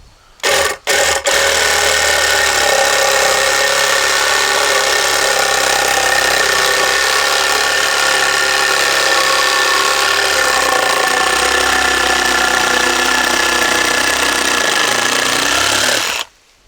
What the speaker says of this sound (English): let's take our trusty Sawzall